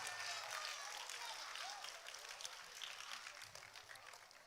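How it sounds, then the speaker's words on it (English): Audience applause at a Sunday School annual day, a steady wash of clapping held at moderate level throughout, with a faint voice drifting in underneath. "Can I get a big round of applause?"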